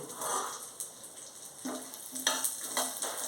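Mustard seeds and chana dal frying in oil for kodo millet upma give a faint, continuous sizzle with soft crackles and a few stirring clinks spaced irregularly, quiet and close, with no speech.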